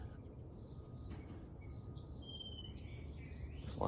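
A bird calling in a quiet outdoor setting, a few thin, high whistled notes over a soft low rumble of very distant traffic.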